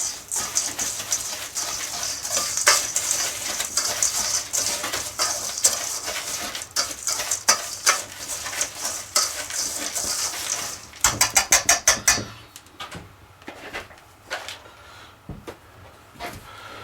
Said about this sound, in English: Now that the butter and graham crackers are mixed together